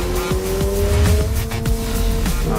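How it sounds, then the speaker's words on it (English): A 2022 Subaru BRZ on sport tires lapping a racetrack, engine note rising and falling as the tires squeal repeatedly through hard cornering, loud and close with no talking. "I can put this car anywhere I want on the racetrack."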